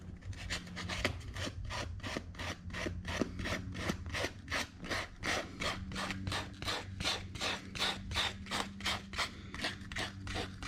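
Cooler top boot hand-sanded with 80 grit sandpaper, a steady run of rhythmic back-and-forth rasping strokes, close and fairly quiet, with no speech.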